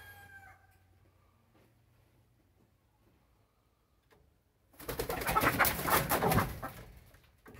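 A faint crow opens, then after a quiet stretch a burst of loud flapping and rustling, like birds fluttering nearby.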